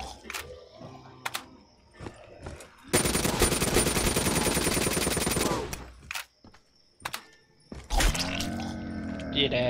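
M27 rifle fire in Black Ops 3 custom zombies on a reimagined Town map, heard as a dense sustained burst of rapid automatic shots lasting a couple of seconds, with scattered single gunshots and game impacts before and after it.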